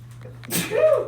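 A single sharp sneeze bursts out over a steady low hum, a quick breathy intake followed by the explosive release.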